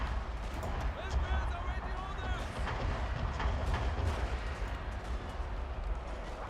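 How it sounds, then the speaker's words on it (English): Artillery barrage in the strategy game Total War: Fall of the Samurai, a dense rolling stream of booming cannon blasts and crackling impacts, fairly quiet and continuous throughout. "this barrage was very, very damaging to the enemy"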